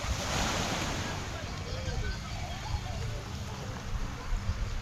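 Ocean surf rolls onto a resort beach in a continuous broadband wash, with wind buffeting the microphone and a faint voice underneath.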